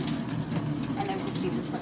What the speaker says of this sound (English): First step, because coronavirus, wash your hands.